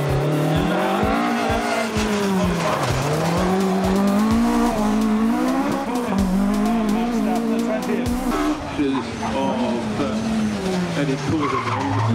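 A Ford World Rally Car drives hard in a rally, engine revving and shifting continuously while tyres squeal and skid through corners, loud and close throughout with a commentator's voice faintly over it.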